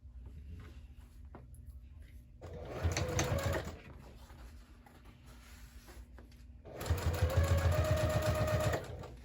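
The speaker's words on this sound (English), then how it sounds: "we'll just go ahead and start sewing the other side" A sewing machine top stitches a seam on a crossbody bag in two quiet, rapid bursts separated by a pause with light handling noise.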